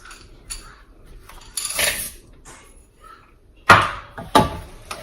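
Chocolate chips are added to soft cookie dough and mixed in a bowl, giving sharp clinks and scrapes of a utensil on the bowl in a few separate bursts between quiet pauses.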